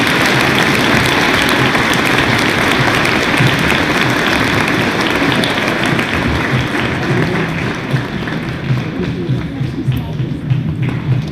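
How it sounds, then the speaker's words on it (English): Audience applause at a school Veterans Day pep rally, a steady, loud wash of clapping and crowd noise with some thumps that holds for about eleven seconds, thinning slightly near the end. "Please give them a round of applause."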